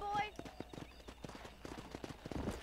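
Horse hooves clip-clop at a gallop in the video game Red Dead Redemption, a war horse, with quick repeated thuds running steadily throughout and a brief whinny at the start.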